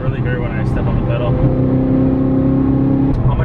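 A straight-piped BMW M3 accelerates from inside the cabin, its exhaust a loud, steady drone that rises in pitch through the pull and carries on without pause for several seconds.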